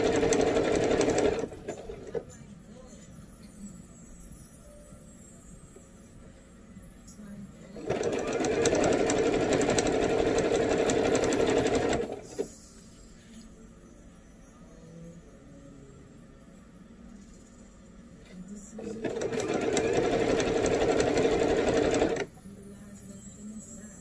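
Sewing machine hemming a bell sleeve on a shirt, running in three sustained bursts of steady, fast stitching with quiet pauses between, close and loud.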